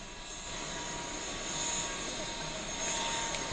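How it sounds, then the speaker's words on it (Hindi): A helicopter comes in to land at a helipad for an official's arrival, a steady loud engine and rotor roar filling the whole stretch, with a faint voice beneath it. "उनके स्वागत के लिए हेलीकॉप्टर उनका उतर चुका है"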